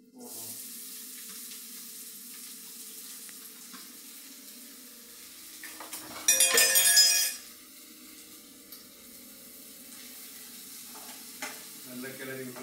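Freshly chopped onions sizzle steadily in hot oil in a pan, with a loud burst of scraping and stirring near the middle and light clinks of utensils near the end.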